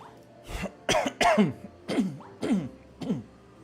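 Six harsh coughs in a loose, uneven series, close and fairly loud, each a short rough burst with brief pauses between.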